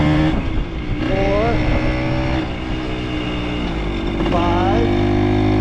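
A motorcycle engine rising and falling in pitch as it revs up through its gears, with a loud, steady drone throughout.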